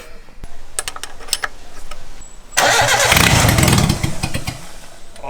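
A Mitsubishi Lancer's turbocharged 4G15 engine cranks with a few clicks and whirs, then fires up suddenly into a loud, rough idle, close by and filling the rest of the clip.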